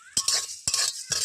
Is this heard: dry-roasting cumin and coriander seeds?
yes